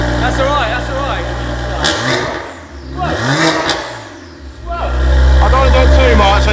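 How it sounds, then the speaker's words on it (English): A straight-piped BMW 135i 1M replica cold-starting with a very loud exhaust roar that surges and revs, then settles into a heavy, booming rumble, close up, with voices talking over it. "It's gonna have cold start, isn't it? So it's gonna be a bit louder at first."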